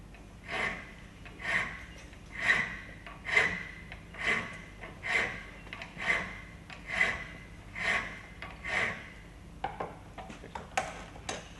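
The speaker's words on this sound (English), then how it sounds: "make sure that I'm filing flat in the other place" A metal file works a workpiece flat while it is clamped in a vise. About a dozen quiet, even rasping strokes repeat roughly once a second, each a short scrape that swells and fades, close by, with no talk.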